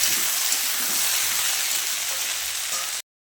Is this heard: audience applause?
no